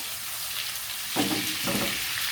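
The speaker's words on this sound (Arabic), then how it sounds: "تقلبي فيه كل شويه اهو عشان ما يلزقش منك طبعا كده" Koshari gets stirred in a pot over the heat, a soft scraping swish rising over a steady background sizzle, two short strokes in the second half, close and moderately quiet.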